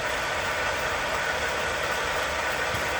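An Alfred Herbert radial drill runs steadily with its spindle on while the column is wound down, giving a continuous, even mechanical hum with a faint rattling vibration throughout, close by and with no talking.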